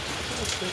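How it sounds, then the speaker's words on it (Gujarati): Morning rain falls steadily outdoors near a standing cow, a continuous broadband hiss of drops on surfaces, with faint voices in the background. "જોઈ શકો છો એકદમ વરસાદ આવી ગયો"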